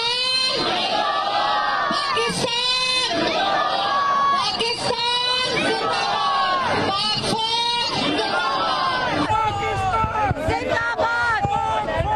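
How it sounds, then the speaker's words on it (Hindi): A large crowd at a Pakistani political rally shouts the slogan Pakistan in loud, repeated surges of massed voices, dense and continuous throughout. "मिलके आप सब नारा लगाए, पाकिस्तान"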